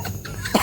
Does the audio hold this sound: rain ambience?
no